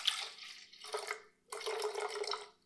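Water poured from a container into a measuring vessel in two separate pours, a steady close splashing trickle that stops briefly, then resumes.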